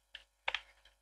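A computer keyboard typed on in a few quick, soft clicks, one single tap and then a short double tap and a faint last one, close and quiet with no talking.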